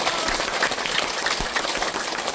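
Lively applause from an audience of older listeners at a health lecture, a dense, even patter of clapping throughout with no speech over it.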